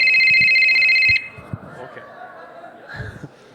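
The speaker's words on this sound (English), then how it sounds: "we'll go ahead and view the call and answer it" An iPhone rings loudly with an incoming call placed from an Android phone at a live app show in Los Angeles; a steady electronic ringtone lasts about a second, then stops as people talk and laugh softly in the room.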